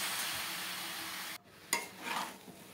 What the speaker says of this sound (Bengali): এবার এই চালটা দিয়েও আমাকে খুব ভালো করে নাড়াচাড়া করতে হবে